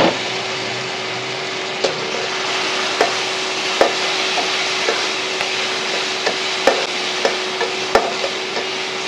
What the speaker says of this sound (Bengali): আমি সবগুলো একটু ভালো করে ভেজে নেব।